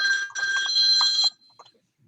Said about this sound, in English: I love that your ringer sounds like you're getting a phone call from like the police chief